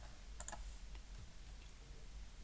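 A couple of quick, close computer mouse clicks selecting an option, a sharp pair near the start and then a faint tick, against a quiet low room hum.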